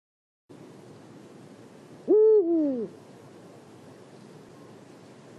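A single owl hoot, a falling, slightly wavering call lasting under a second, rises clearly out of faint hissing background noise and then fades back to quiet.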